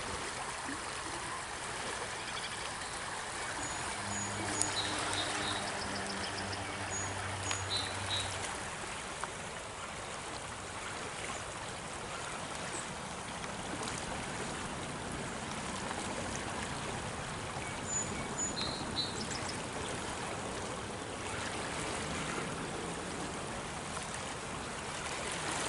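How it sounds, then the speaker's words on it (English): A creek swollen after heavy rain rushes and gurgles in a steady, continuous wash of water, with occasional faint chirps drifting through. "This area did receive a lot of rain,"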